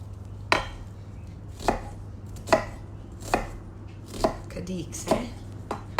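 A knife chops an onion into small dice on a board while making salmon pasta, about eight distinct, evenly spaced thuds over a low background hum.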